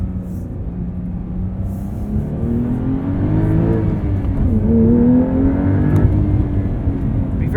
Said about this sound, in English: I'd be very curious to see what a Sharkworks exhaust or an aftermarket exhaust would do for the sound of this engine.